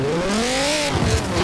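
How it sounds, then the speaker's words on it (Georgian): A Dodge Viper's engine revs in Forza Horizon 4, a steady high-pitched drone climbing gradually in pitch, then wavering with a rougher burst near the end, loud and continuous with no talk. "ჩემს ვაიპერს აქვს ზუსტად ესეთი ხმა."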